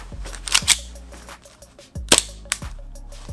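Jag Precision Taran Tactical Combat Master airsoft pistol firing a couple of sharp, close shots near the start, then a pause and another quick pair of snappy reports, with clicks between.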